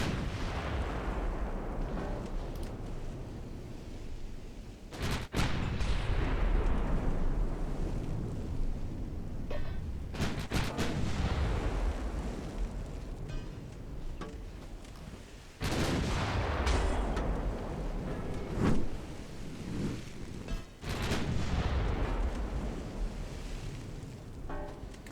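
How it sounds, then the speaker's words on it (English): Heavy warship guns boom in a naval battle in the game Ultimate Admiral Dreadnoughts, several loud broadband blasts at irregular intervals, each trailing off under a constant rumble of wind and sea. "I'll fire until the guns are dry, and then I'll call it."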